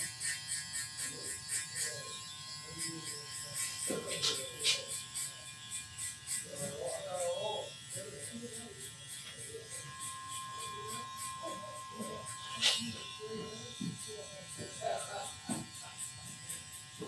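An electric hair clipper buzzes steadily during a fade haircut, its motor whine rising slightly in pitch, with someone talking over it throughout.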